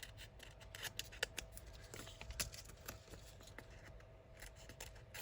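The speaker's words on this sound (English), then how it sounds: "I'm going to cut this out so I can" Scissors snipping out a paper scrap for a junk journal, a close series of quick, irregular crisp cuts and rustles of paper, no talking.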